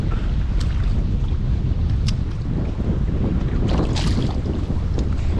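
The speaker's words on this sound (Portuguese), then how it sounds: "O vento tá demais, a chuva tá chegando." Strong wind gusts buffet the microphone on Lake Paranoá ahead of rain, a loud, constant roar mixed with water sloshing around a small fishing boat.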